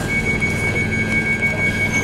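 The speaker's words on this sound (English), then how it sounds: "This is the Northern Line train." A London Underground Northern Line train runs with a steady, loud rumble and a high whine, close by and continuous, with no talk over it.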